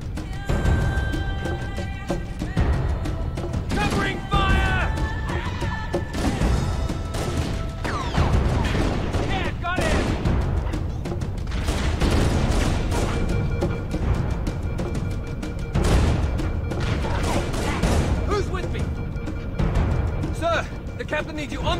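Dense gunfire and explosions from a battle in Halo: Combat Evolved Anniversary, rapid weapon shots and crashing impacts running steadily throughout, layered over game music and dialogue.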